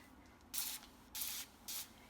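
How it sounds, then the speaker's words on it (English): Three short bursts from a hand spray bottle misting water onto a watercolor painting, each hissing spritz lasting about a quarter second, close and fairly quiet with pauses between them. "you're going to spray it with water, and you're just going to let it sit"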